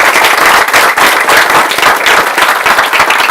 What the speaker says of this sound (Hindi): ये आप एमएलए के लिए तालियां बजा रहे हो